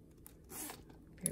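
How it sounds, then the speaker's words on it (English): A metal zipper on a Coach Dreamer wristlet handbag is pulled in one brief, soft, close-up rasping stroke, quiet and isolated with no talking. "The zipper is great, of course. Very buttery smooth,"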